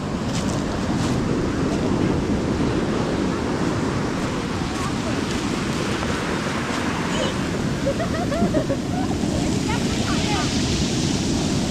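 Pacific Ocean surf washes steadily against the shore, a continuous loud rush of breaking waves mixed with wind buffeting the microphone, with brief faint voices underneath.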